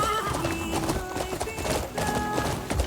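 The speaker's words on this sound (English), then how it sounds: "Yeah, we can travel so much faster on this horse." Horse hooves clip-clopping at a steady gallop in the open-world game Crimson Desert, with an occasional whinny, all set against a dense, continuous layer of game music and ambience.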